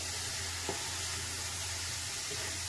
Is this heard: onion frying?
yes